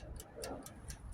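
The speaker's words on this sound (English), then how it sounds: "You hear it ticking?" Faint, regular ticking from a scrap-loaded truck, four evenly spaced clicks about a quarter second apart, over a low rumbling background hum.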